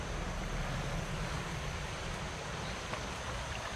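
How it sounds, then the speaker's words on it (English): Steady broadband rushing of a small stream flowing into a creek, continuous and even, with a soft wind-like hiss and no voices. "here's where this little stream comes in"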